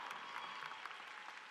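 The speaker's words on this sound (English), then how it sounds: "give them a round of applause" Steady applause from a high school commencement audience honoring teachers and staff, a dense, continuous wash of clapping that holds evenly through the short moment without pause.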